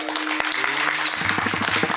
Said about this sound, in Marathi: झोपा टाळी वाजव.